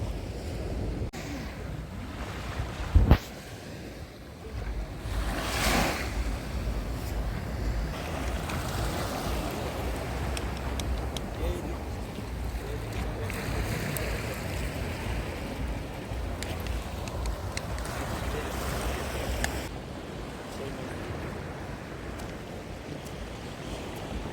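Sea surf washing steadily onto the shore at Odesa, with continuous broadband wave wash and gusts of wind buffeting the microphone, and one sharp knock early on; no speech.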